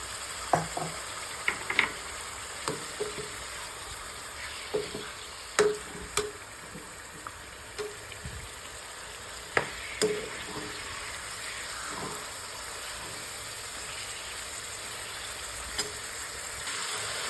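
Chicken pieces fry in a pan with ginger paste for a red chilli chicken fry, a steady quiet sizzle broken by irregular scraping and clacking stirs.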